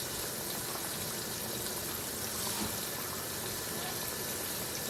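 Hot water runs steadily into a jar holding leftover cheese sauce, giving a continuous soft hiss and gurgle at low volume with no breaks.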